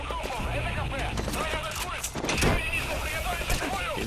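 Rapid bursts of gunfire in Metal Gear Solid V, with a heavier blast near the middle, mixed with in-game noise and a person talking throughout.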